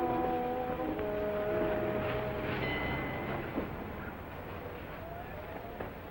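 A car driving at night in a 1947 setting, a soft steady engine and road hum with some faint tonal whines, fairly quiet and continuous, gradually easing off toward the end.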